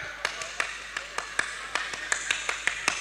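Audience performing the Indonesian scout clap (tepuk pramuka) at a large religious gathering, a rhythmic pattern of sharp claps in a steady beat with voices murmuring underneath.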